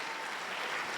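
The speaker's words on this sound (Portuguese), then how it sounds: "Tem que aplaudir o Senhor, meus irmãos." A church congregation claps together during a sermon, a steady dense wash of applause filling the whole moment without pause.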